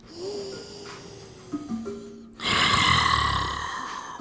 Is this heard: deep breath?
yes